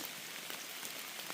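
Steady rain falls through a birch forest along a muddy ridge hiking trail, a close, even hiss of drops pattering on leaves and ground with no voices.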